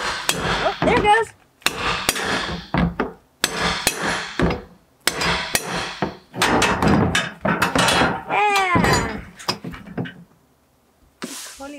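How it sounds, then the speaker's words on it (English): A hammer taps on an IBC water tote in repeated sharp strikes, some in quick clusters, close and loud, with gaps of quiet between bursts. "You want me to tap the hammer?"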